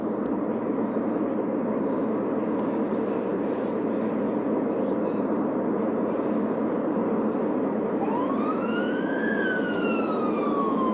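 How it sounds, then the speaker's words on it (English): A police siren begins wailing in the distance, rising and falling over a steady loud rumble of road noise from a moving vehicle. "Now I hear a siren. What is with the siren?"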